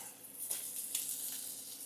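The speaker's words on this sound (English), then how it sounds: "I fry my hot dogs because I'm not a fan of" A faint, steady sizzle of hot dogs frying in a pan, soft and close, with a few small pops and no one speaking.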